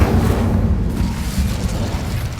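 Incendio fire spell cast in the video game Hogwarts Legacy, a loud rumbling burst of flame that swells at once and then roars on and slowly fades.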